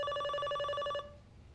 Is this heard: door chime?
yes